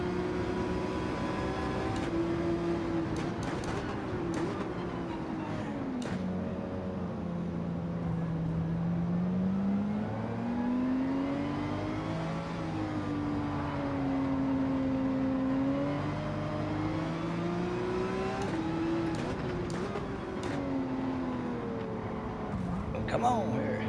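A Porsche race car in Gran Turismo 7 racing at the Nürburgring GP circuit, its engine droning steadily and rising and falling in pitch through gear changes and corners, continuous and fairly loud under occasional talk.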